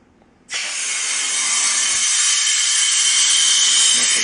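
Vacuum pump for a 1974 Chevy Nova's AC system, driven by an air compressor for a vacuum leak test, starts abruptly with a loud, steady high-pitched hiss that holds constant close by, with no talk.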